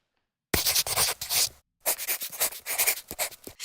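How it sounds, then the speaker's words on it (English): Pen scratching across paper as notes are written down, a steady run of quick scribbling strokes, close and fairly loud, with a brief pause midway and no talk. "let me just write those down"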